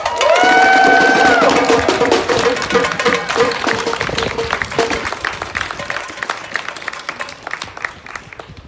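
Crowd of supporters inside an occupied building bursts into sustained applause and cheering, loud at first with a few shrill whoops, then thinning into scattered clapping that fades over several seconds.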